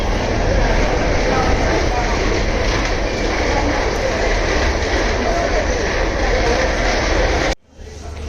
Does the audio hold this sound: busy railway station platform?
yes